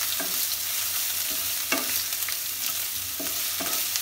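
Kashmiri rajma masala with grated ginger stirred in a sizzling pan of oil, a continuous frying hiss broken by several spoon scrapes against the pan.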